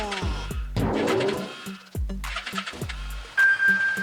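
A Yamaha VMAX 1200 motorcycle with badly synchronized carburetors and hard starting cranks in several short, uneven bursts, firing briefly and dying between attempts, close and loud.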